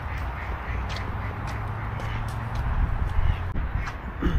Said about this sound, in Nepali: हेर त हाँस साइन।